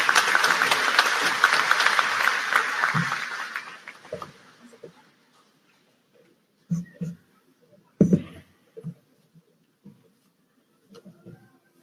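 An audience at a Purdue University graduation ceremony in 2018 applauds a keynote speaker, steady clapping filling the hall before fading away, followed by quiet room noise with a few scattered thumps and rustles.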